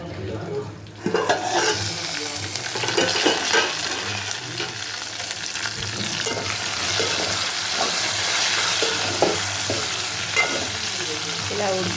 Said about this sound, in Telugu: ఒక 5 మినిట్స్ మగ్గనిద్దాం మూత పెట్టుకొని.